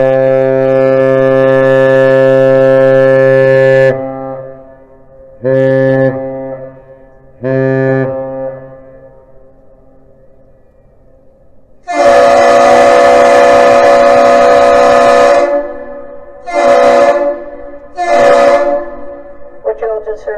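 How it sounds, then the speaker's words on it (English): Ship horn sounding a Captain's Salute: one long deep blast, then two short blasts, followed by a second long blast and two short replies from another horn, loud and resonant with quiet gaps between. "The ship initiates the greeting with one long blast followed by two short blasts, and the bridge responds with the same thing."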